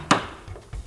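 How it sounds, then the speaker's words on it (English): A child's toy hammer strikes a peg on a pound-a-peg toy: one sharp, close knock followed by a softer thud a moment later, with no talking. "Oh, you're going to hammer it down."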